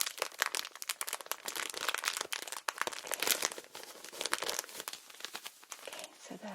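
Packets of a cold treatment compress being torn open up close: dense, continuous crinkling and crumpling of plastic wrapping with sharp tearing bursts, fairly quiet and intimate, with a soft voice briefly in the background.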